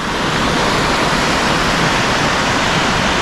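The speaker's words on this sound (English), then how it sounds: "that is the waterfall that I am trying to get to" The Minoh Park waterfall in Osaka roars nearby as a loud, dense, unbroken rush of falling water, steady throughout with no voices.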